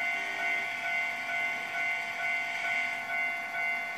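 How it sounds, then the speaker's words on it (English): A train passes a Japanese level crossing in the Trainz railway simulator: a steady hiss and bright sustained tones pulse in a slow, regular rhythm, moderately loud and constant throughout, with no voices. "Another train is coming."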